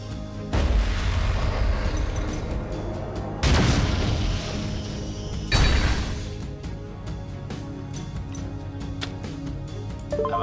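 Three heavy booming impacts from monster attacks in the Yu-Gi-Oh! Legacy of the Duelist card game, each a loud crash with a ringing tail over a continuous game music bed, spaced a few seconds apart.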